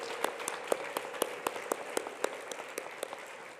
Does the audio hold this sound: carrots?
no